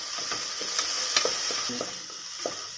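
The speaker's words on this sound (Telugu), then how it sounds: "ఆనియన్స్ కాస్త వేగుతున్నప్పుడు ఒక రెమ్మ కొత్తిమీర యాడ్ చేసుకున్నాను." Onions frying in a pan with a sprig of coriander for Chennur dum biryani: a steady close hiss of sizzling oil with soft, irregular stirring scrapes over it, fairly quiet and without voices.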